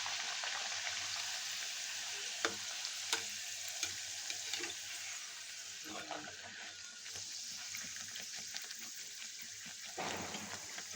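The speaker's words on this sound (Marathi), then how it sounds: "अशा प्रकारे सगळ्या पुऱ्या तळून घ्यायच्या, पटकन घ्यायच्या" Puris frying in hot oil for besan ladu make a steady, moderately close sizzle with occasional sharp clinks and stirring knocks from utensils throughout.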